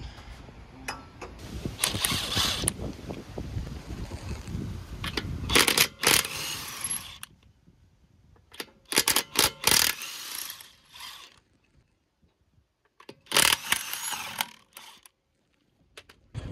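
Hand tools work on the front wheels of a Mk6 GTI, with bursts of rapid ratcheting and metallic clicking separated by quiet pauses, close up and fairly loud.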